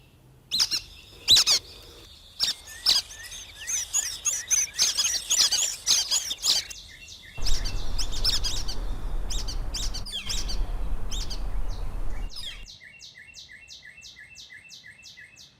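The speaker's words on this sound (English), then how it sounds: "our nuthatches have raised many families every year in this birdhouse that we have provided for them. If you listen carefully, their call is kind of like a little squeaky toy." Nuthatches at a backyard birdhouse give repeated squeaky, toy-like calls, a close run of sharp chirps and a regular series of short notes near the end, with a steady low rumble through the middle stretch.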